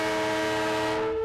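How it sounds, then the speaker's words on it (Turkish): A sustained train horn blares loudly, alone, as the first Turkey–Russia export block train arrives at its destination in Russia, holding a steady tone before cutting off abruptly. "Türkiye ile Rusya arasındaki ilk ihracat blok treni Rusya'daki varış noktasına sorunsuz bir şekilde ulaştı."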